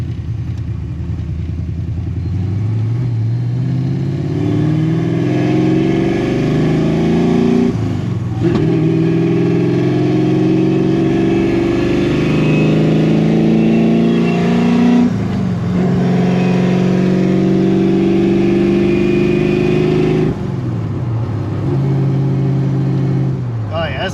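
A Holley Terminator X equipped Fox Body race car cruises in fifth gear, its engine a loud, steady droning rumble with slight pitch shifts and brief dips as the throttle changes.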